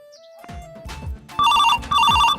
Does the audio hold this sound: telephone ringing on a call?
yes